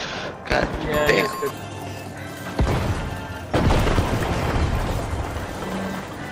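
A crane in a multiplayer video game is blown apart. Loud crashing booms hit near the start and again around the midpoint, and the heavy rumbling debris lingers afterward. Players talk excitedly over the noise.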